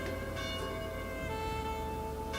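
A bell rings with sustained tonal partials, fairly faint and steady over a low background hum, with a couple of fresh strikes during the short stretch.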